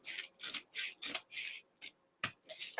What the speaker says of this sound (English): I'm going to have to take the razor and trim it.